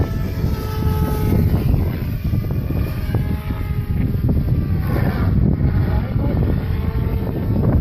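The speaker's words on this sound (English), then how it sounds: "Not really, because it's windy." Steady wind buffets the microphone throughout at a dog park, a continuous low rumbling roar with no pauses.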